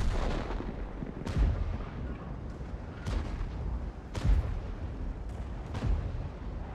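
Heavy tank cannon fire in a World War tank game battle on the El Hallouf map, several deep booming shots at irregular intervals, some louder and nearer, over a continuous rumbling engine and battle background.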